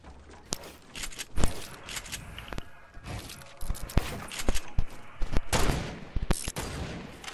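Fortnite gunfire during a sniping fight: a rapid series of sharp, loud shots and cracks, some in quick bursts, with scattered footsteps and game noise between them.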